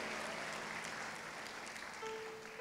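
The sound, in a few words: congregation applause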